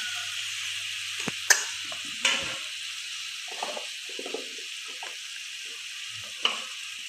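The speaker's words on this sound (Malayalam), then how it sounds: "ഇനി നമ്മൾ കഴുകി വൃത്തിയാക്കി വെച്ച് ചെറുതായി കട്ട് ചെയ്ത് വെച്ച ചിക്കൻ ഇതിലേക്ക് ഇട്ട് കൊടുക്കാം" Chopped chicken dropped into a pan of frying onions for chicken kurma, a steady low sizzle with a few sharp clatters as the pieces go in and are moved about, close and fairly quiet, no talking.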